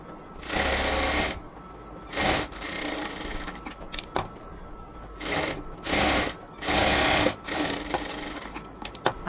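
A sewing machine double-stitches the sleeve joints of a cotton dress in several short bursts of rapid whirring, separated by quiet pauses with small handling clicks.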